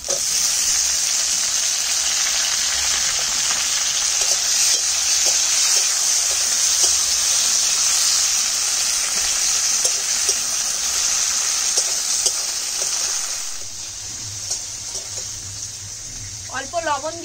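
Chopped tomatoes added to onions frying with black cumin seed in a pan make a steady, loud hiss and sizzle that fills the clip and eases off near the end, with a voice talking over it.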